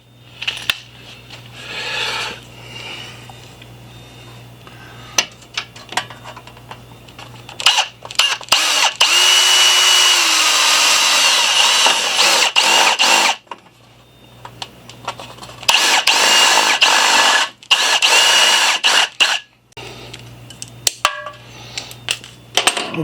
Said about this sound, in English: get our electronics box drilled for our ground cable